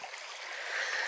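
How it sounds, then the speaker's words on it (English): Babbling brook in the Quantock Hills, a steady soft rush and trickle of flowing water heard at moderate distance with no voices. "You've got these streams here,"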